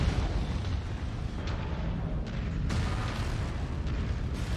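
Explosions from incoming missiles in the MechWarrior 5: Mercenaries mech combat game, a continuous heavy rumble of booms with several sharper blasts bursting through, loud and close, no voices.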